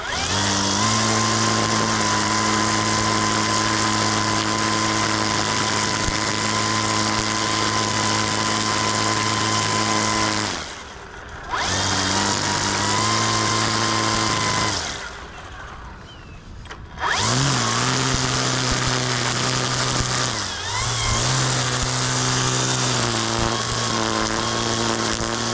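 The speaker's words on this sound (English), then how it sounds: "and then I start mowing" A grass trimmer engine runs loud and close while cutting grass, holding a steady high whine. It cuts out briefly twice and then revs back up.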